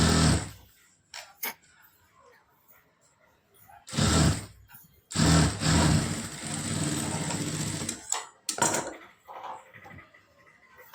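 A sewing machine stitches the folded hook piece of a lined blouse in short bursts, running for a second and then a steadier few seconds of whirring, with quiet pauses and light handling noises between.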